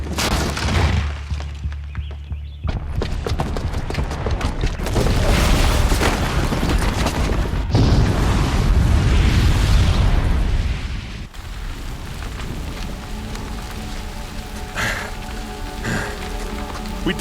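A booby-trapped bomb goes off in Horizon Zero Dawn: a loud, sustained roaring blast rumbles and crackles for several seconds like heavy debris rain, then drops to a quieter ringing aftermath.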